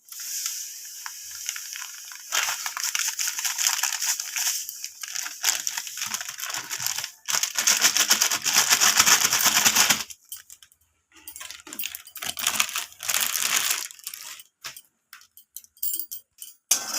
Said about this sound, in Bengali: সুজিটাকে আমি এইভাবে খুন্তির সাহায্যে নাড়াচাড়া করে সুজিটাকে লাল লাল করে ভেজে নেব